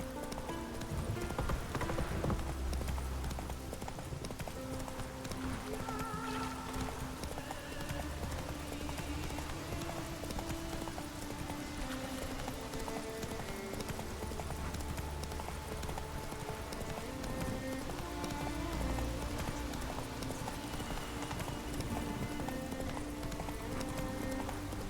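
Horse hooves galloping steadily in The Witcher 3, a continuous clip-clop beat lasting throughout over game music, with a brief whinny near the start and patter like rain in the background.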